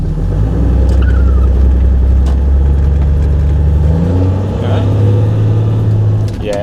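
FTE Cruiser engine revving loudly as the vehicle pulls away and accelerates, a steady close rumble rising in pitch, with brief talk near the end.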